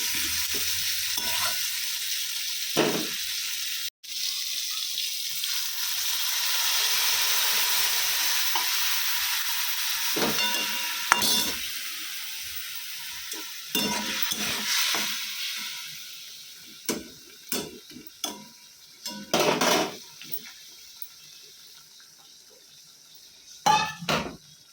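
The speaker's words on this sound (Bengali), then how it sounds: "কাঁকরোল ভাজাটা বসিয়ে দিয়েছি" Kakrol (spiny gourd) frying in a pan. A dense, continuous sizzle fills the first half, then gives way to irregular scraping and clattering of a utensil against the pan as the hiss fades.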